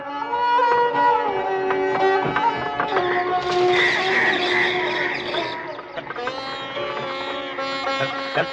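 A car drives and turns, tires squealing and skidding beneath a busy, layered background of music or crowd noise, moderately loud and continuous.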